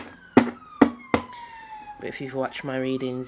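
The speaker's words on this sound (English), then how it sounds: "Okay, so we're starting off with the sirens." Emergency vehicle sirens wail faintly in the background, a slowly sliding tone that carries on beneath a few sharp knocks and a person talking up close.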